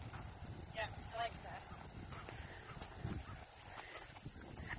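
A horse's hooves clip-clopping in a steady trot during a riding lesson, soft and somewhat distant, mostly beneath an instructor's speech.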